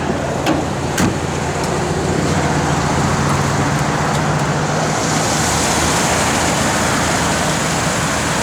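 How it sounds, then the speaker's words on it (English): A 1965 Chevrolet Impala SS with a big-block V8 runs steadily throughout, giving a loud, dense, continuous rumble with no talking over it. "Good old sounding big block right there."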